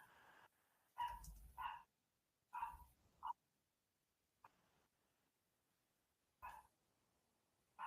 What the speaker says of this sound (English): Sorry about my dog yapping in the background.